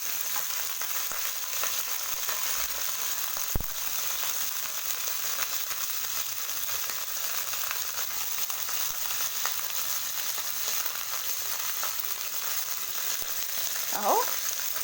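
Chicken frying in very hot oil, an even, continuous hiss and sizzle close by, with a sharp knock partway through and a brief utensil squeak near the end.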